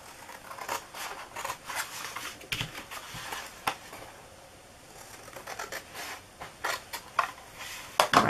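Scissors cutting through a cardboard cookie box, a series of short crisp snips and crunches in irregular bursts, close and fairly quiet, with no talking.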